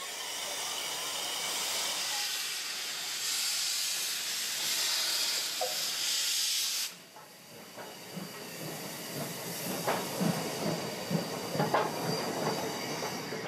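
A special tourist train in Kyushu, Japan, rolls past with a steady loud hiss and rumble, which drops abruptly partway through into clattering wheel noise and faint squeals on the rails.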